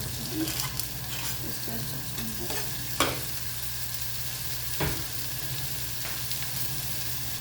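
Onion and tomato frying in a pan for egg shakshuka, a steady close sizzle with occasional stirring scrapes and utensil knocks, no talking.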